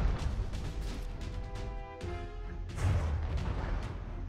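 Incoming artillery shells land in the naval combat game From the Depths. There are two or three muffled booming impacts with rumbling tails and a faint tonal hum between them. No voices are heard.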